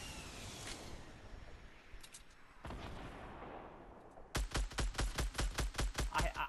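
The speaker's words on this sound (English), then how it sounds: "Get ready to shoot him." Video game gunfire: a few scattered single shots, then a loud, steady automatic burst of rapid, evenly spaced shots near the end over a faint background.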